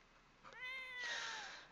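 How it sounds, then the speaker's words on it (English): A cat in The Sims 4 gives a single drawn-out meow with a rising-then-falling pitch, clear and fairly close over a quiet background with no talking. "What's wrong with the cat?"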